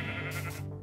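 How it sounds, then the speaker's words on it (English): A single short sheep bleat from Minecraft, heard alone and close with no talk over it. "What's wrong with the sheep?"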